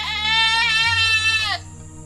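A goat gives one long, loud, wavering bleat close by, ending abruptly and leaving a faint low hum behind.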